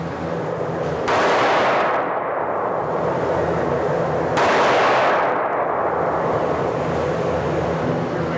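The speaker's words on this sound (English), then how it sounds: "We move on to a more powerful gun, one you've probably heard of, the .357 Magnum" A .357 Magnum revolver fired outdoors: two loud, sharp gunshots a few seconds apart, each with a long reverberant decay.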